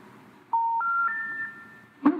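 On a telephone call to a disconnected number, three rising electronic tones sound one after another, steady and clear, followed by a sharp click.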